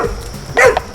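A thin, emaciated rescue dog gives one short bark, fairly close and loud, over a faint background hum.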